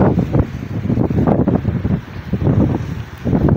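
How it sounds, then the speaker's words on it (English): Strong wind on a white-sand beach at Coco Beach in Malindi buffets the microphone with loud, continuous low rumbling gusts that swell and dip, with no voices. "The wind is too much, guys."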